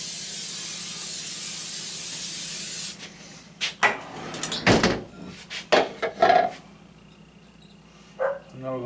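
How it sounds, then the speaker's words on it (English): Nonstick cooking spray hisses steadily onto a baking pan for banana nut bread for about three seconds, close and clear, followed by a run of scattered knocks and clatters from the pan. "I like to spray these things down like crazy so they don't stick"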